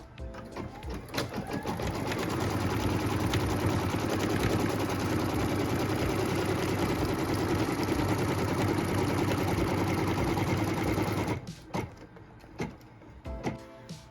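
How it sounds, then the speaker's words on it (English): An embroidery machine stitches a tack-down line for a pieced quilt block, a steady, loud mechanical whirring and rapid needle clatter running continuously for about eleven seconds before stopping, followed by a few faint handling knocks. "And then we can stitch the tack down line for piece number 3."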